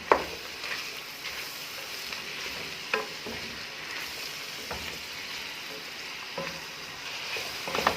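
Carrots, peas and crumbled chicken pulao stock cubes being stirred in a hot pan, with a steady low sizzle of frying under occasional scraping and clinking stirs.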